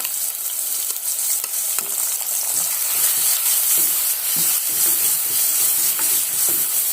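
A ground paste of onion, ginger and garlic fries and crackles steadily in a hot pan, a dense continuous sizzle with occasional stirring scrapes, close and fairly loud with no talking.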